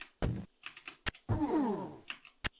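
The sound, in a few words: computer keyboard keys pressed while playing Chaos Strikes Back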